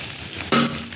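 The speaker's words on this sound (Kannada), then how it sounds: "ಈರುಳ್ಳಿ ಶುಂಠಿ ಬೆಳ್ಳುಳ್ಳಿ ಎಲ್ಲ ಫ್ರೈ ಆಗಿದೆ" Onion, ginger and garlic paste frying in a pan for a flat bean curry, a short close sizzle with a brief stir-like burst midway.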